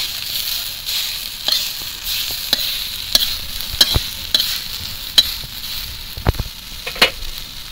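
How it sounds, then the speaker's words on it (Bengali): Chopped onion hits a pan of snake gourd already fried to a light reddish brown, giving a steady close sizzle broken by sharp spatula scrapes and clicks as it is stirred. "এবার পেঁয়াজ কুচি দিয়ে দেবো।"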